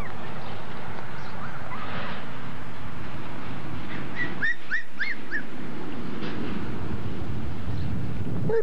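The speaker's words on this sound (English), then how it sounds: "Close this gate so none of the puppies can get out." Puppies behind a gate let out a short cluster of high whimpers and yips midway, amid steady rumbling background noise from an old home recording.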